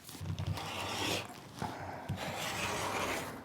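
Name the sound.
trimming the edge of a quilted placemat with a ruler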